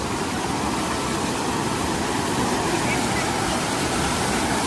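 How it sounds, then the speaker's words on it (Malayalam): Steady broadband roar of a clear-water waterfall near a homestay in Vagamon, loud and continuous throughout, with no breaks. "കാരണം നമ്മുടെ വെള്ളച്ചാട്ടം നോക്കിക്കേ,"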